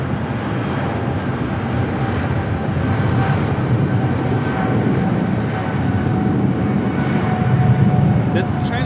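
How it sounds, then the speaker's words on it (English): An Air China Boeing 777-300ER bound for Beijing takes off from the north side at LAX, a loud, steady jet-engine roar heard from a distance, with a voice talking over it. "SF Air China, the 777-300ER heading back to Beijing, heading up for a north side at takeoff."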